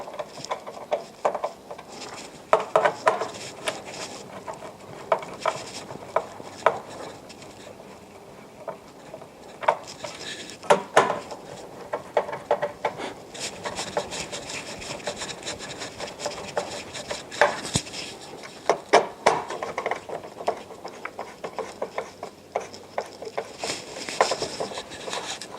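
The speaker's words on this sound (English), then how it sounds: "And then take my screwdriver and screw everything down." A screwdriver fastens down a pinball machine's display board, giving scattered soft scraping, ticking and rubbing handling noises at close range, with no speech.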